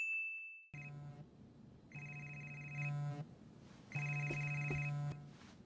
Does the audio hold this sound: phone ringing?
yes